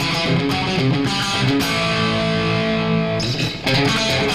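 Twangy, slightly distorted electric guitar rips through a picked lick at a quicker tempo, a dense stream of rapid notes with a brief dip before resuming, close and loud with no voices.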